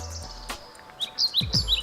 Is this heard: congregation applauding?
no